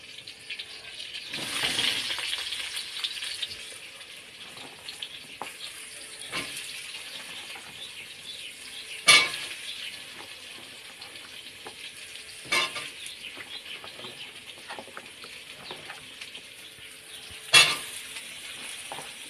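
Nigella seeds and green chili sizzle in hot oil with ridge gourd over a low flame, a steady soft hiss broken by a few sharp knocks and clinks of a utensil, close and with no voices.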